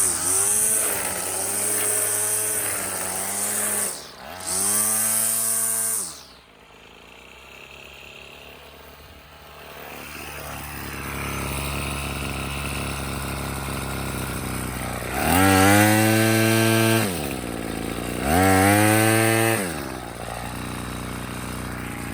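A nearly new 2019 Craftsman curved shaft string trimmer two-stroke engine idles roughly and revs up in several loud bursts, dropping back between them, close by.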